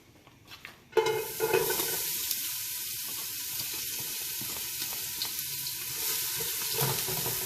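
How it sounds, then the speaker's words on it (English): Chopped onions hit hot olive oil in a soup pot with a sudden loud sizzle, then settle into a steady, bright frying hiss with faint stirring clatter. "the first thing I'm going to put in there is going to be my onions, because the onions are always the first to fry"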